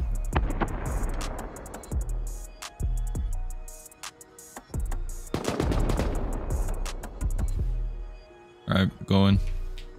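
Automated turret in the game Rust firing in rapid bursts of machine-gun fire, loud and close, with repeated volleys separated by short pauses and a final brief burst, while players talk over it.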